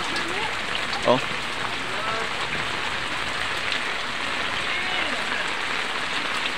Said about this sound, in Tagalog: Grabing baha talaga to.